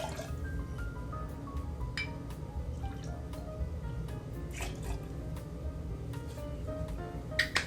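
Unpeated Scotch whisky, about two and a half ounces, runs into a glass mixing glass as a close, steady trickle of liquid with scattered drips and small clinks.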